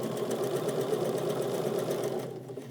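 A Bernina sewing machine stitches across denim jeans with a quick, even, close mechanical whir that runs steadily and then winds down near the end.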